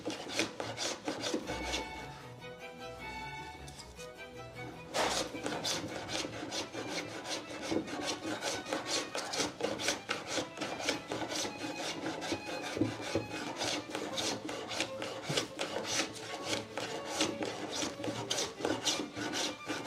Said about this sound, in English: I will have to shape this bevel again